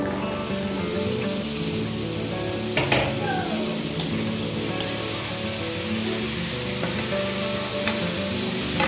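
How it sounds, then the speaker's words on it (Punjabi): Cut pumpkin sizzles and crackles steadily in a hot pan over a low gas flame, with occasional clinks of a utensil stirring against the pan, close and continuous throughout. "ਆਪਾਂ ਇਸ ਦੇ ਵਿੱਚ ਜਿਹੜਾ ਕੱਟ ਕੇ ਰੱਖਿਆ ਹੋਇਆ ਸੀ ਕੱਦੂ ਉਹ ਪਾ ਦਵਾਂਗੇ"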